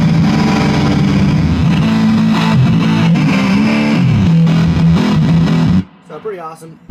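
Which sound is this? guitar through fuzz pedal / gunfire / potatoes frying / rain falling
guitar through fuzz pedal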